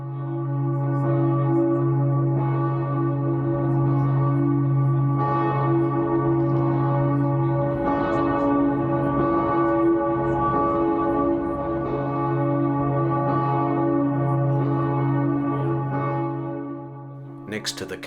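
Cathedral church bells pealing continuously, rich sustained tones ringing loudly and overlapping throughout, with a faint murmur of a crowd beneath before the ringing fades at the end.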